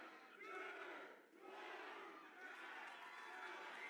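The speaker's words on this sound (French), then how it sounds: "La foule qui compte" A wrestling arena crowd roars and chants in unison along with a referee's pinfall count, a dense, sustained wall of voices that dips briefly and then swells again.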